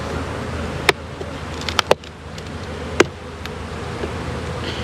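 Honeybees in an open Apimaye plastic beehive during a warm December, a steady close droning buzz throughout, broken by a few sharp clicks and knocks.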